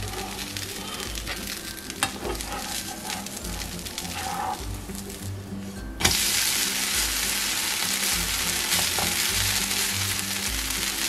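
A jowar flour roti sizzles steadily on a hot pan over medium flame, a continuous close hiss that jumps louder after a soft knock midway as the roti is flipped to cook the other side; no talking.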